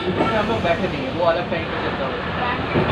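A Kolkata tram moves slowly along its rails, a continuous low rumble and rattle of the car with a person talking over it.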